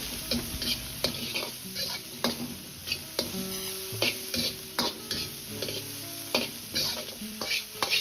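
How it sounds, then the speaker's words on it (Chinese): Ginger and garlic stir-fry in a hot wok with oil and Sichuan peppercorns, a continuous loud sizzle broken by repeated scraping strokes of a spatula against the metal, close and with no voices. "再倒入姜蒜，炒出香味"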